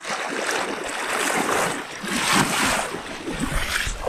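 River water rushing steadily around an angler wading into a large river in Poland while fly fishing, a continuous broad close wash with slight swells and no speech.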